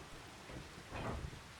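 Rain and a low rumble of thunder in the farming game Farming Simulator 25, a soft steady hiss with a brief louder swell of rumbling near the end, no talking.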